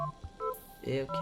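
A phone in the video game Stray gives short electronic dialing beeps, tonal and fairly loud, with a brief spoken remark mixed in over them.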